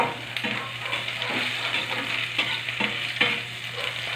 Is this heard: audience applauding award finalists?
no